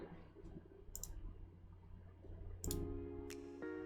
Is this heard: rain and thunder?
no